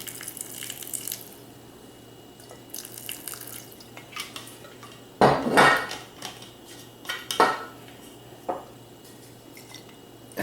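Spoonfuls of rum go into an almond cream mixture in a bowl, giving soft splashes and drips with a few clinks of a spoon against the bowl, quiet, with one louder clatter near the middle.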